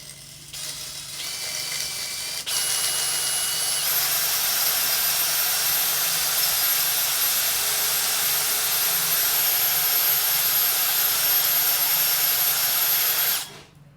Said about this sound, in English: all it is it spins round and it's going to rub the carbon, the black stuff, and off the inside of the cylinders